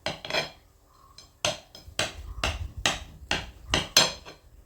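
A knife cuts flattened rice halwa into shapes, producing a series of about eight sharp taps and thuds against a board or plate, spaced irregularly and fairly close, with quiet gaps between them.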